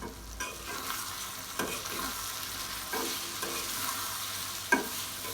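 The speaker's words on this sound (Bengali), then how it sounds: "এখন মশলাটা আমি ভালোভাবে ভেজে নিব।" Soft, continuous sizzling of spices frying in a hot pan, with occasional scraping stirs of a spoon.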